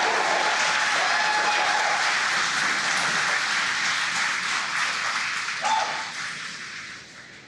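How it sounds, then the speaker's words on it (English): Crowd at a rocket launch viewing, cheering and applauding during a Falcon 9 stage separation, a sustained roar of clapping and shouts that swells briefly then fades toward the end. "as you can hear the cheering in the background"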